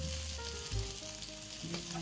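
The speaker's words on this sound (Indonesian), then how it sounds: "Tumis-tumis bawangnya gitu, gampangnya gini." Shallots sauté in an oiled pan for dried shrimp vermicelli, giving a steady, close sizzle with a few brief clinks of stirring.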